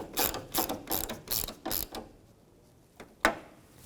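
Ratchet clicking in quick regular bursts while tightening screws on Chevrolet Silverado 1999-2006 covers, about six close strokes then a pause and two faint clicks, no talking.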